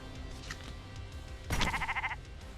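Sheep bleating in the video game Commander Quest; one short, clear bleat rings out in the middle of the clip over a low, continuous game background.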